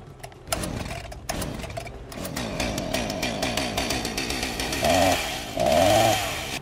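A chainsaw engine revs up and down repeatedly with a rattling two-stroke buzz, growing louder toward the end with sharp high-pitched surges.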